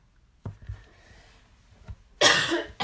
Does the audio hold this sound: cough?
yes